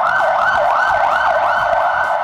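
An ambulance siren wails at a fire rescue demonstration, a loud close rising and falling yelp cycling steadily over a low road rumble.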